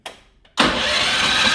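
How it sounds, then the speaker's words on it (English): A Tillotson kart engine in a monster truck kart build is cranked on a battery, a short whirring turnover followed by a loud, steady roar as it catches. "just see if it can turn the engine over"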